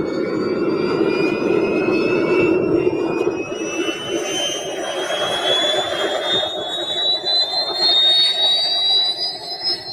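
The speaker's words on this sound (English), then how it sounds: "I'm racing like literally 2 jet planes." Two scale-replica fighter jets racing, their jet engines giving off a loud, sustained roar with rising whining tones that sweep upward as they speed past.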